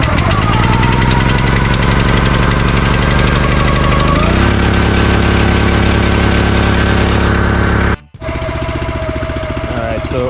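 Barreto 920LSH log splitter's small gasoline engine pulled to life, running loud and close with a steady rattling knock, dropping to a lower idle partway through, then cutting out briefly before resuming.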